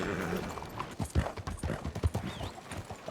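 Horse hooves clip-clopping in the Red Dead Redemption 2 video game, a quick galloping rhythm of thuds at moderate loudness with a faint whinny and light ambient sound behind.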